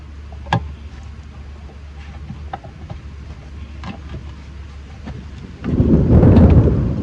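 Sharp cracks of thunder punctuate a storm over a yard, then a loud rumbling roll builds near the end amid steady rain.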